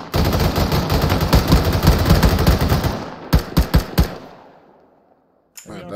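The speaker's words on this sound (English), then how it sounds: "Shots southeast." Rapid automatic gunfire in ARMA 3 rattles loud and dense for about three seconds, then three or four separate heavy shots ring out and fade into near silence before a short burst returns.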